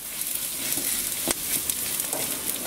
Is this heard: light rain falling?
no